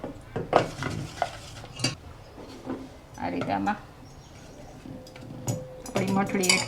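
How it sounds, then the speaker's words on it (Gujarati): A spoon scrapes and knocks around a pan of thickening sugar syrup in short bursts of stirring, with someone speaking between and over the clatter. "આ રીતે બે ત્રણ મિનિટ તમે ઘૂડશો ને એટલે જો આપણી ચાસણી ઘટ થવા માંડી છે"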